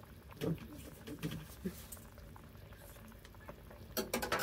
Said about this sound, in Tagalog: Para habang niluluto ang gulay, magkakaroon ng lasa ito.